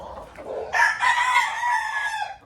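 A rooster crows once, close and loud, in a drawn-out call lasting about two seconds after a short lead-in.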